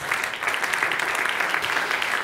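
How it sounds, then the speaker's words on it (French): Audience applause at a French talk show, a dense, steady clatter of many hands clapping close by, sustained without pause and without speech. "je propose d'applaudir Gérald."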